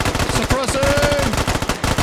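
Rapid automatic gunfire lays down suppressing fire in a squad-based military shooter, a loud, close, continuous stream of sharp shots with a brief whistling sound passing over them.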